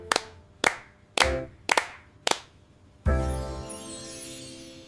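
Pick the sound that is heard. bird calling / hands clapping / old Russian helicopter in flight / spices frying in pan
hands clapping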